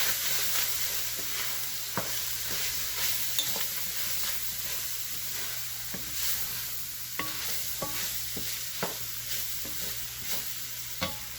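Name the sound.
stirring seasoning mixture into browned hamburger meat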